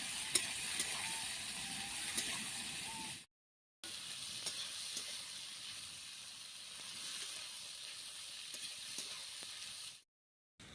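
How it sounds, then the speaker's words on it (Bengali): Sliced onions with a pinch of salt frying in a pan for poppy-seed onion paste, a steady loud broadband sizzle with occasional stirring clicks, broken by two short silent gaps; no talking. "পেঁয়াজটাকে এবার ভালোভাবে ভাজবে"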